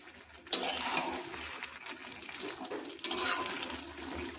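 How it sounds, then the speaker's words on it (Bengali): Water poured into poppy seed paste in a cooking pan, making two splashing, sloshing pours a few seconds apart with a faint scrape of the pan in between. "পোস্তটা একটু জল দিয়ে দিলাম।"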